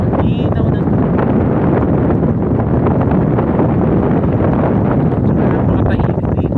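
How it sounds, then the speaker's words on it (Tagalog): Strong wind at a beach in Barangay Pactoy, Marinduque, roaring and buffeting the microphone in a loud continuous rumble throughout. "Ang lakas ng hangin."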